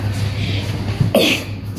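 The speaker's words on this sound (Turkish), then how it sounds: "Neden öksürdün?" A single short cough bursts out midway through, close and fairly loud, over steady low background hum in a room, with no talk around it.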